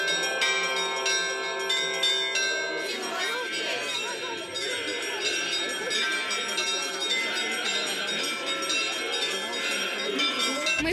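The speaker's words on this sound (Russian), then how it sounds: "Богомольцев встречали пасхальным перезвоном." Church bells ring a continuous Easter peal at a church in Northern Butovo as a crowd of worshippers returns from the procession. Overlapping bright strikes fill the scene, with faint crowd chatter beneath.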